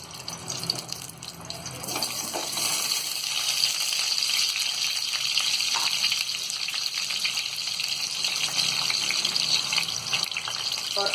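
Potato pieces for dum aloo fry in hot oil, a steady broadband sizzle and bubbling that holds close and even throughout with no voices over it.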